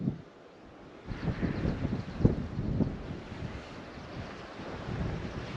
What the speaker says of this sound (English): There's quite a bit of wind again today.